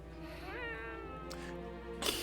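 A cat meows in an anime episode of Made in Abyss, one drawn-out rising and falling meow heard close and clear, ending with a short sharp noise.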